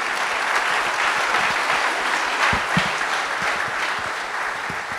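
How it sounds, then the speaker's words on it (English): Dense, steady audience applause follows a talk on cultural ecosystem services, a full room clapping continuously at even loudness for several seconds with no speech. "can we get a round of applause for Adriane?"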